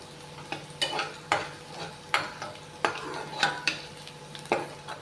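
Onion tempering frying in a pan while a spoon stirs it, giving soft sizzling and a handful of scraping strokes against the metal at irregular intervals, fairly quiet and with no voices.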